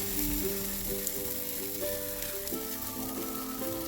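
Cheese-topped burgers cook on a hot griddle with a loud steady sizzle, while faint tonal background music plays throughout.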